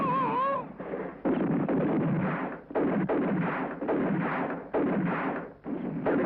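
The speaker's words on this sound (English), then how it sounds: "Come on, start shooting! Open fire!" Gunfire crackles through a western shootout in a rapid series of loud, close shots and bursts, with a brief shout at the start and almost no pause between volleys.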